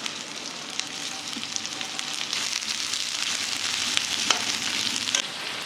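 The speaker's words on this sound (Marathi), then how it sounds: "तेल घालू, कढईत तेल घालू, थोडंसं परतायला कांदा टाकू" Onion sizzles in hot oil in a kadhai, a steady close frying hiss with occasional crackles and pops while it is stirred, with no talk.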